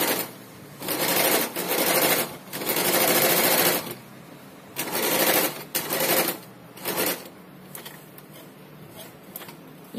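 A sewing machine stitching a salwar, running in several steady bursts of rapid needle chatter separated by short pauses, close and clear with no talk.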